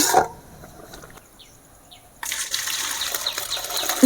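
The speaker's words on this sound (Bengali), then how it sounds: "এই ঝাড়াটাই করে আমি জলটা ঝেড়ে নেব" Water drains from boiled chowmein noodles through a strainer for egg chowmein. A brief splash comes first, then a quieter stretch, then a steady rushing pour that runs to the end, near and with no one speaking.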